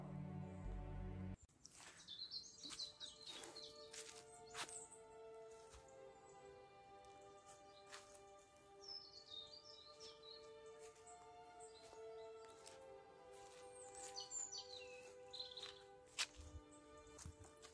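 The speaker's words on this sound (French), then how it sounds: "Oui, on entend les oiseaux." Wild birds chirp and sing in short scattered phrases at a closed, empty campsite in Corsica, fairly distant and faint over a quiet outdoor background, after a brief louder noise at the start.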